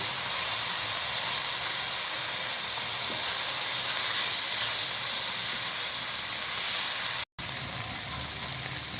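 Chicken mince cooking in a pan with garam masala paste, salt, red chili and coriander powder: a loud, steady sizzling hiss runs throughout, cut by one brief dropout near the end.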